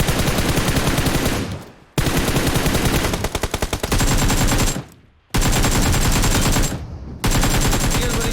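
Loud, close automatic gunfire in the mobile battle royale game PUBG Mobile comes in long sustained bursts, broken by a few short pauses and rapid individual shot stutters.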